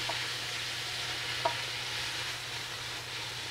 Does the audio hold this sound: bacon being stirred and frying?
yes